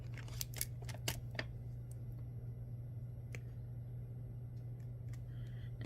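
Wire cutters snip through beading wire while making a tube bar necklace: a few sharp, close clicks in the first second or so, then a steady low hum continues alone.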